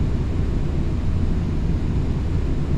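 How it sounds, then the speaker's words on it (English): A plane taking off in Flight Simulator X gives a steady, loud broadband engine roar with a low rumble, constant throughout and with no voices over it. "That's a plane taking off."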